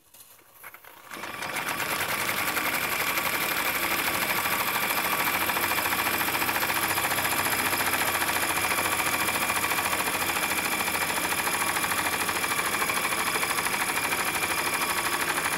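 Jensen 55G toy steam engine driving a belt-driven generator runs at a steady whir after a quiet second-long start, a dense, even mechanical drone with fast rhythmic chatter that holds loud to the end with no talk.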